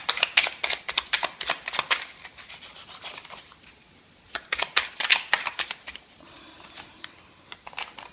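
Close, papery shuffling of a deck of oracle cards, bursts of brisk riffling and rubbing separated by short pauses, with no voice over it.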